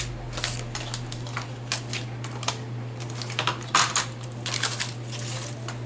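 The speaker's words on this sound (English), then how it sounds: "I guess I'll cut it in half again." Scissors or a cutter slice a paper scrap in half for rustic papercraft tags, giving crisp, irregular snips and rustles close by over a steady low hum.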